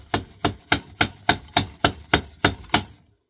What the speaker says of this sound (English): I'm going to try and use this as a slide hammer to tap that down